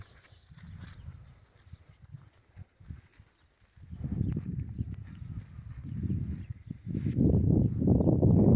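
Muffled hooves thud and clop on soft ground as a horse walks nearby, growing louder and busier toward the end.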